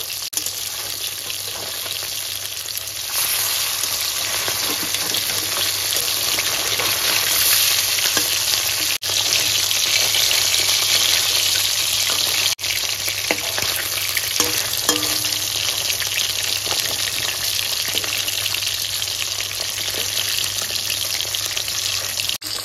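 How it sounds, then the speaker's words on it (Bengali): Loud, continuous sizzle of bele fish frying in hot oil, crackling steadily, with a few sharp clicks of a utensil as the fish are turned. "এবার অপর পিঠ উল্টে দেব।"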